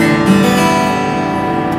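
Open strings on an acoustic guitar are sounded and left to ring, producing a loud, close, sustained chord of rich overlapping tones with no speech.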